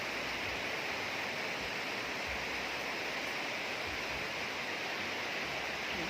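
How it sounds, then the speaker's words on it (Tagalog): Heavy rain pours down in a steady, dense roar that holds evenly throughout, close and loud, with no voices over it. "Ayan, malakas na naman ang ulan guys."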